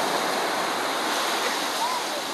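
Steady, broadband roar of surf washing on Chicks Beach in warm rain, with constant wash and no distinct breaks.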